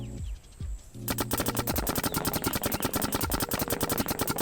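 A paintball marker in the Infinite Paintball Tournament video game, firing a rapid, continuous stream of sharp popping shots after a brief quieter lead-in with a couple of isolated thumps.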